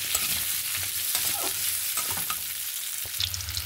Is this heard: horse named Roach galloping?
no